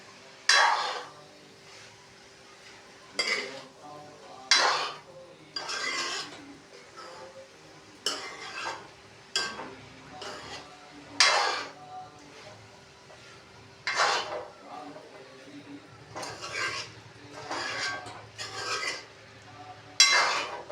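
Cauliflower florets being tossed with masala in a pan, a series of irregular metallic scrapes and clanks of a utensil against the pan, close and moderately loud, with no talk.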